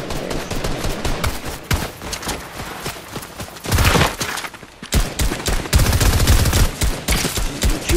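Rapid bursts of heavy assault rifle fire in the Fortnite battle royale game, loud and dense, with repeated volleys and short pauses between them, no talking.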